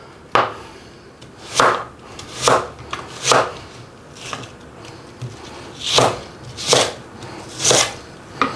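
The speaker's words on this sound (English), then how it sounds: "Now we're going to slice this onion down long ways." A knife slices lengthwise through an onion on a cutting board, giving a series of crisp, separate cuts at an uneven rhythm, close and fairly loud, with nothing else heard.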